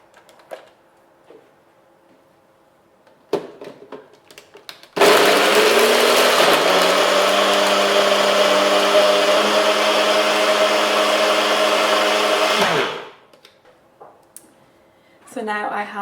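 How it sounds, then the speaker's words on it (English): A NutriBullet blender blitzes about a slice and a half of bread, starting abruptly with a loud, steady motor whine that holds for around eight seconds before cutting off, framed by quieter handling sounds before and after. "We're going to add it now to our NutriBullet."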